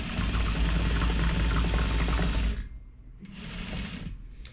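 A sewing machine runs close and loud, stitching a quilt seam for a triangle hexie quilt in a steady whirring burst that stops, then restarts in a shorter, quieter run.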